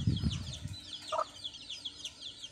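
Soft clucks from a Bisaya and Rhode Island crossbreed chicken, heard on a farm with some brief wing flapping, a low burst at the start and light chirping calls scattered over the rest.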